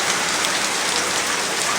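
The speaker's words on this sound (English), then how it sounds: "I'm just waiting under this roof here for the rain to slow down." A brief stretch of heavy downpour in Mexico City, taken from beneath a roof: a thick, even roar of falling rain with no speech.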